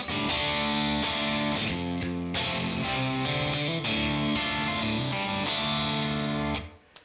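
Electric guitar, a Stratocaster on the bridge pickup through a Vox-style amp simulation, strums chords in a bright, lightly overdriven tone, played continuously before stopping near the end.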